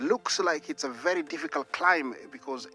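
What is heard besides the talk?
No distinct noise like a dog, phone or traffic.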